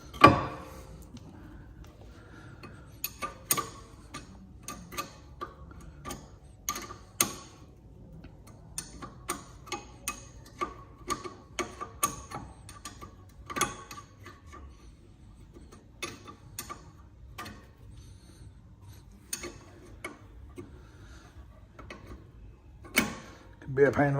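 A ratchet spanner clicks in quick irregular bursts as it winds out a tight rear brake caliper bolt on a Vauxhall Meriva A, the sharp ticks close and distinct, with some low voice in the background.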